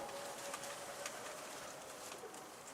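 Faint cooing calls from a male pigeon or dove sound over a steady background hiss, a few soft notes spread across the moment.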